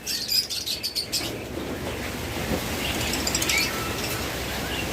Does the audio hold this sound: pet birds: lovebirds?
yes